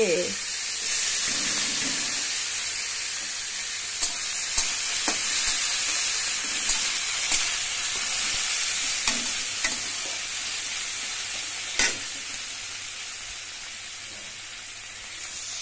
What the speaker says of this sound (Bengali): এই পেঁয়াজটা আমি এখন কড়াইতে দিয়ে দিচ্ছি